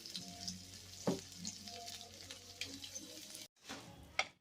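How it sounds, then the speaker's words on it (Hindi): Mawa (khoya) roasts on a low flame in a pan with a soft, faint sizzle and occasional stirring scrapes and clinks, quiet and close, briefly cutting out near the end. "धीमी धीमी आंच पर हम मावे को भून लेंगे"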